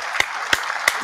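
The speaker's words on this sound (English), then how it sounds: "Let's go ahead and give some round of applause to Black Love and Babies being born." Three sharp, close hand claps land evenly spaced about a third of a second apart, each brief and distinct over a quiet hiss.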